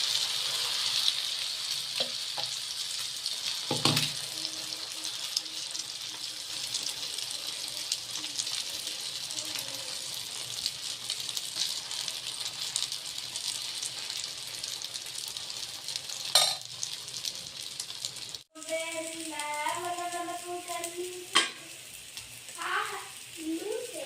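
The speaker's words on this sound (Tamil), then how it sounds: "கொஞ்சம் எண்ணெய் ஊற்றிக்கலாம் முட்டை ஆம்லேட் நல்லா வேகப்போம்" An egg omelette with grated carrot and turnip fries in hot oil, giving a steady sizzle throughout with occasional clatter, while a voice briefly speaks over the cooking toward the end.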